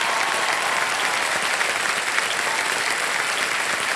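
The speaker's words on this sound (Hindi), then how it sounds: "तालियां बजती रहे" Studio audience applause on the KBC television quiz show, a dense, continuous wash of clapping that holds steady and loud throughout.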